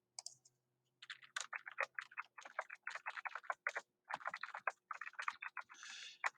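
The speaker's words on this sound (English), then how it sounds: "So we are going to do a little bit of typing." Quiet, quick typing on a computer keyboard during an Excel spreadsheet lesson: a steady patter of light key clicks in rapid bursts, with a short pause before a longer run of keystrokes.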